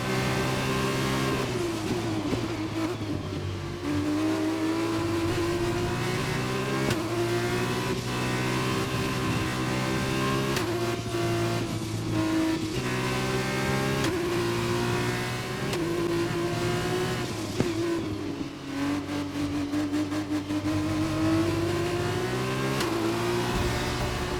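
Formula 1 race car engines in F1 2021 scream steadily at high revs throughout, pitch rising and dipping with gear changes as cars run together on a final lap, loud and continuous with no talk.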